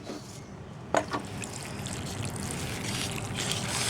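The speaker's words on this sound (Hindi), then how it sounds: "ये आपने पानी डाल दिया" Water is poured onto compost in a container for winter composting, a sharp splash at the start followed by a steady trickling pour that grows slightly fuller toward the end.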